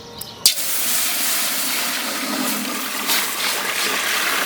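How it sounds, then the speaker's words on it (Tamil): A sharp splash, then a steady broadband hiss and sizzle as water is poured into a hot pan, continuing evenly for several seconds without speech. "தண்ணி ஊற்றிக்கிறோம்."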